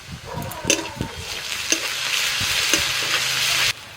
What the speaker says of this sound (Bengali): পেঁয়াজটা ভাজা হয়ে গেছে দিয়ে দিচ্ছি আদা রসুন বাটা